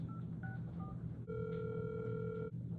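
A telephone call rings out unanswered during a cold call: faint dial tones chirp in short pairs, then a long steady ringback tone sounds before cutting off, with a low background hum throughout.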